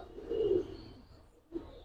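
Homing pigeons kept indoors give a short, low throaty coo up close, followed by a pause and a brief second murmur.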